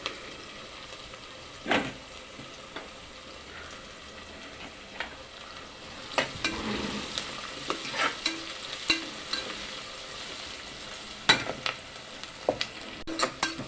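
Mint leaves and curry leaves are being stirred in an oil-filled frying pan with a spoon, making a low, continuous sizzle under intermittent scraping and clinks that grow busier and louder in the second half.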